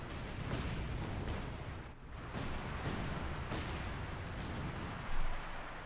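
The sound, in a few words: artillery fire in video game Company of Heroes 2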